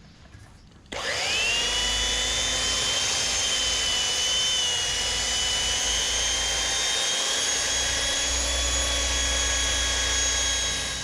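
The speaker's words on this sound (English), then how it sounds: "I'm going to continue on and get the whole front of this buffed with this grit compound," A power buffer spins up and runs steadily with a loud, sustained whine and hum as it polishes a boat's gel coat with grit compound, continuous and close.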